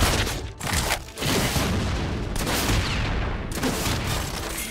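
Explosive booms and a fusillade of blasts from a turret being destroyed in the mobile game League of Legends: Wild Rift, loud and continuous with a couple of brief dips amid dense game effects.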